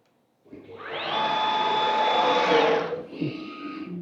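An AltMill CNC spindle cutting, a steady whining machine tone that ramps up, holds loud and close for about two and a half seconds, then winds down into quieter motor noise.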